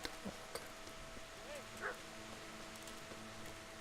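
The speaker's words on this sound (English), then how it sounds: "I heard a dog." A dog barks in the Kingdom Come Deliverance video game, a few faint, short distant yips and barks over a quiet background hum.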